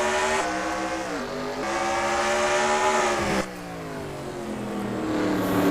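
Race cars starting at Bathurst in SEGA Rally Championship, engines roaring and revving together, with rising pitch through the gear changes, a brief dip at a shift, then a climb again, loud and continuous with no voices.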